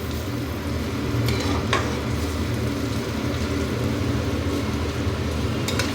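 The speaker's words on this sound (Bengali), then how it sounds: "আর এখানে আলু ভাজা বসিয়ে দিয়েছি, দুটো লঙ্কা দিয়েছি, আলু ভাজা" Potatoes with two chillies frying in a pan give a steady, moderately loud sizzle throughout, with a few brief stirring scrapes on top and no talking.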